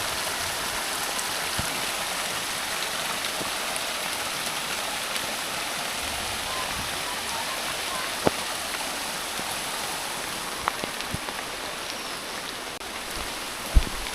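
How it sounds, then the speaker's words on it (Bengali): Heavy, continuous rain falls in a steady broadband wash, with a few scattered drips and knocks standing out now and then. "আজকে এই যে দেখতেই পাচ্ছেন কী পরিমাণ বৃষ্টিটা হচ্ছে"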